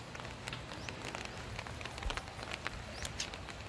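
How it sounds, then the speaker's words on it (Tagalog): Steady rain hisses and patters over a surface, a dense continuous wash with occasional louder drops, nobody speaking. "Sobrang lakas-lakas ng ulan dito."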